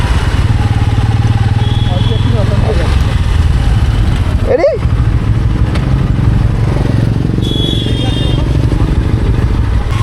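A motorcycle engine hums steadily and loudly throughout a ride on village roads, a constant drone with wind noise, while people talk over it.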